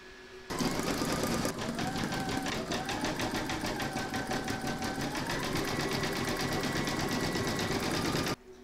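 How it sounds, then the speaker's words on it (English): An embroidery sewing machine runs steady satin stitching on a large cross appliqué, its rapid needle chatter continuous and close for about eight seconds, starting and stopping abruptly, with no voices. "we're now going to do the satin stitching and the detail around the"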